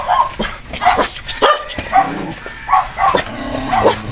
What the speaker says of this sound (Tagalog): Ang mga aso.